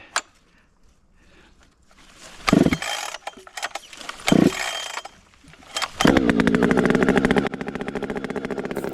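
A 592 chainsaw is pull-started outdoors: a couple of sharp cord pulls with sputtering attempts, then the engine catches and runs at a loud, rapid buzzing idle close by.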